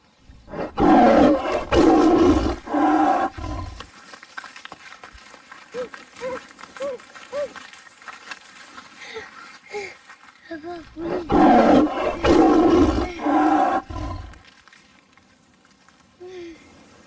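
Loud tiger roars in a forest setting, two powerful bursts at the start and again near the end, with quieter growls and breathy snarls between.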